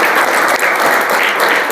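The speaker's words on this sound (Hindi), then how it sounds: "एक बार जोरदार ताली" Loud, sustained applause from a seated audience at a talk featuring an IAS district collector, an even wash of many hands clapping close by with no break.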